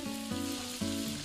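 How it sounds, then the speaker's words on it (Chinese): Meat and shiitake mushrooms stir-fry in a hot pan, giving a steady close sizzle broken by a few regular rhythmic changes as the food is stirred, with no talking. "肉和香菇先下锅炒出香味"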